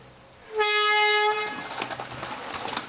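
A loud horn blasts once for about a second to start a race, close and steady with a bright tonal pitch, followed by rough engine and crowd noise as vehicles set off.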